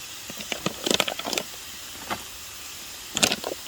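Steak and broccoli sizzle in a pan at a solo car campsite on a backroad in the woods, with bursts of crackling and hissing rising and fading over a quiet background, no talking.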